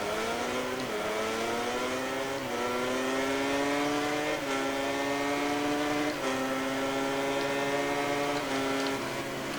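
Racing motorcycles in MotoGP 19 launch off the start line with a loud, dense engine roar, pitch rising steadily then dropping at each upshift in a repeating climb, no voices over it.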